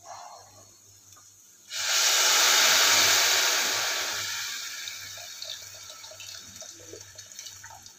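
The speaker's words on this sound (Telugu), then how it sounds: "వాటర్ యాడ్ చేద్దాం." Hot water poured into a pot of rice that has been frying briefly, a loud steady rushing hiss starting after a quiet moment and slowly easing off, with no talking.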